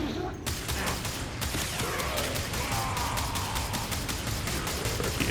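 Rapid pistol fire from AKMagnus Prime dual pistols in the Warframe video game, a dense stream of sharp shots with infinite ammo, loud and continuous over game effects.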